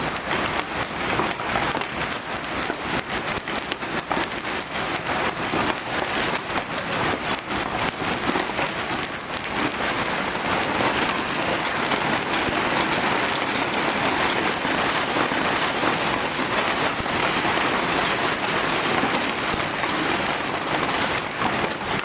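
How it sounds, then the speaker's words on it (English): Large hailstones, some tennis-ball sized, pelting down steadily during a supercell storm in Crane, Texas, a dense continuous clatter and hiss that stays loud and even throughout with no talk. "And here comes the hail, folks. This is some big time hail."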